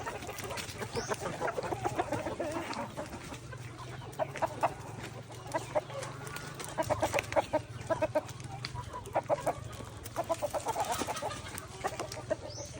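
Chickens clucking in repeated short bursts against a continuous low background hum, moderately close and fairly quiet, with no talking.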